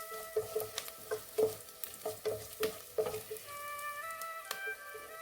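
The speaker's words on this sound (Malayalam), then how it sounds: "ഈ കറിവേപ്പില എല്ലാം കൂടെ എണ്ണയ്ക്കകത്തിട്ടൊന്ന് വഴറ്റിയെടുക്കാം" Onion and curry leaves sauté in hot oil for rice flakes uppuma, a soft sizzle under repeated stirring taps and scrapes, close up and fairly quiet, with no voices.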